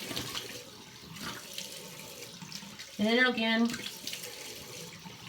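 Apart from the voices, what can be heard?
tap water running for rinsing face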